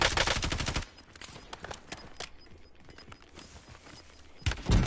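Automatic gunfire in Call of Duty Warzone, with dense rapid bursts at the start and end and a rattling, busier stretch of shots between, loud and close.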